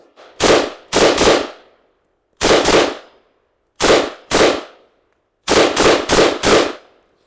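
A Vz.58 rifle fires about eleven sharp, loud shots in short groups: a single shot, then pairs, then a quick string of four, with silence between the groups.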